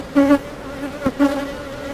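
Honey bees buzzing inside an open, very full beehive during an inspection, a steady close drone with a few louder swells as bees pass near.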